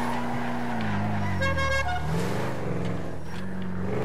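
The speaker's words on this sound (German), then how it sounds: "Warum hupt die Hube bloß so kurz?" A car horn in the game GTA V sounds in short honks, with engine and road noise beneath and a voice talking under part of it, loud and close.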